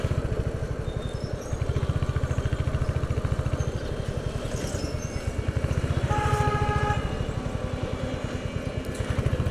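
A motorcycle engine idles close by, a steady rapid low thumping chug with mechanical clatter that holds evenly throughout; a faint tonal whine rises briefly past the midpoint.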